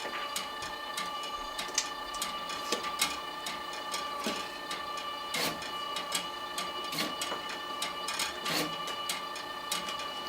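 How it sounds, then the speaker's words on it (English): A price-tag labeling machine for cardboard and paper tags runs with its automatic input feeder, giving a steady mechanical hum topped by irregular close clicks and ticks as tags are applied. "we're going to start the labeling part, then the input feeder, and the automatic feeder"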